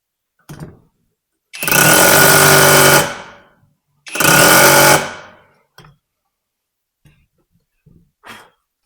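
A cordless brushless 20V rotary hammer drill with a 1/4 inch bit bores into an old cinder block in two loud, close, rattling bursts of about one and a half seconds each, followed by faint knocks and handling sounds.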